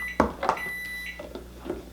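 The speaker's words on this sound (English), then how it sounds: "You zap it in the microwave for about 2 minutes." A microwave oven heats popcorn with butter, giving a few short clunks and beeps as it starts, then a steady low hum with no speech.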